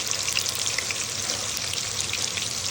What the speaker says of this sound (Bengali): এবার এই পেঁয়াজটাকে আস্তে আস্তে ভাজতে থাকবো